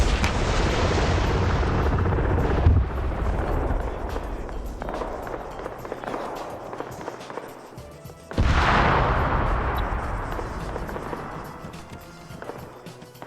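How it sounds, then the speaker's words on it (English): Helicopter in a modern military shooter game being sniped mid-hover, a loud continuous rotor and engine roar mixed with gunfire bursts, with a sharp surge of noise partway through before it fades. "And he just sniped a helicopter in round 2."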